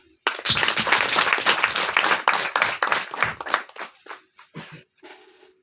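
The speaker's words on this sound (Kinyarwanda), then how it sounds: "twongere dushimire Imana tuyikomera amashyi menshi" A Rwandan wedding ceremony crowd breaks into loud, dense applause and clapping that thins into scattered claps toward the end, with a voice faintly underneath.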